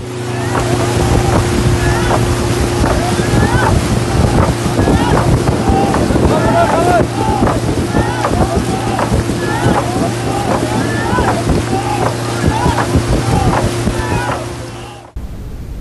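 Snake boat Devas Chundan out on the Punnamada track in Kerala for race practice ahead of the Nehru Trophy, a steady engine-like drone and churning water running throughout, with voices faintly under it.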